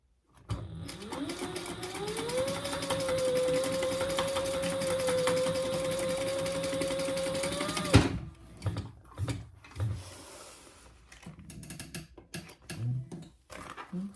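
A sewing machine stitches a Babi Boxy bag in one steady, close motor run of about eight seconds that stops abruptly, followed by scattered handling clicks and clunks.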